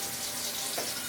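Hot water is poured from a kettle into a cooking pot of softened onions for Ethiopian misir kik alicha, a steady close splashing rush that runs without pause.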